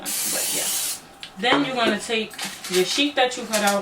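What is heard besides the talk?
cooking spray sprayed into a cake pan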